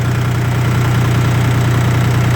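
A Dongfeng 244G2 compact tractor's diesel engine idles close by, a loud, steady low throbbing hum with a constant mechanical rattle and no voices.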